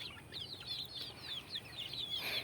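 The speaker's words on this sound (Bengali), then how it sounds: "এই যে দেখছেন খেয়ে নিল মুরগি" Desi chickens eating chhena give soft, rapid clucks and quiet chirps in quick bursts, close but fairly faint, over a low background hum.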